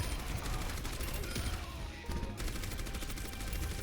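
Rapid automatic gunfire from a hero shooter match in Overwatch, a dense continuous stream of shots with clattering mechanisms and a brief dip midway before the firing resumes, loud and close.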